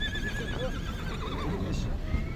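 A foal for sale at a livestock bazaar in Sokuluk, Chuy, neighs loudly in a long wavering whinny, with people talking nearby and faint hoof clops around it.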